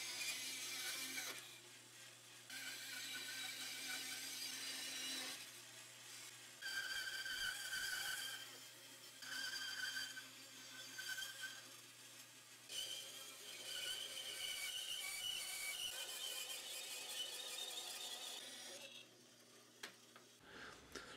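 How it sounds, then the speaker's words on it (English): Wood for a wooden hinge is cut on a bandsaw and shaped on a belt sander, making a steady machine hum with long grinding, rasping passes that swell and ease across the stretch, moderately quiet and free of voices. "I'll cut what I can on the bandsaw and then finish up on the belt sander."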